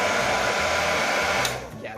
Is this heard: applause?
no